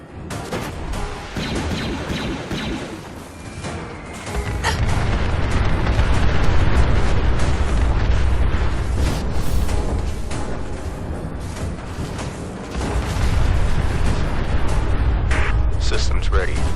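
Heavy, rumbling explosions from nuclear weapons in a robot war video game roll on continuously, with deep booming bursts swelling and fading over a dense crackling wash of blasts.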